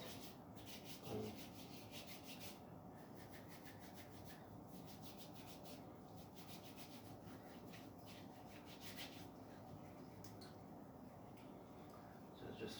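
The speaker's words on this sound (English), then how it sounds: "Just take a handful and rub it" Hands rub together with sanitizer in quick, steady strokes, a faint, dry swishing friction that continues throughout.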